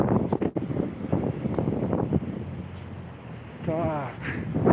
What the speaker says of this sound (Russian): Ух, и тут тоже ветрюга.